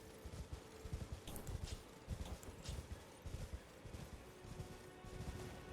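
The spectral steed horse in the Elden Ring video game gallops with rapid, rhythmic hoofbeats repeating throughout, quiet and steady, with no talking over it.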